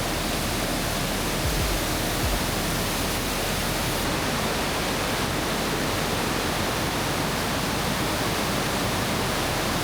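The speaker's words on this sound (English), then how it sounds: "So that was Deception Falls. It's along the Stevens Pass Highway" The waterfall at Deception Falls along the Stevens Pass Highway pours in a constant, full roar of rushing water, even and unbroken throughout.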